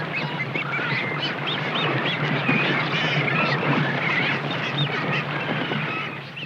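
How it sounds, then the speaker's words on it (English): Brown boobies and frigatebirds squabble over fish at sea, a continuous dense chorus of harsh honking and quacking calls from many birds at once, loud and close. "Next come the brown boobies, not yet harassed by the frigates, which for now are satisfied to snatch the fish still floating on the surface."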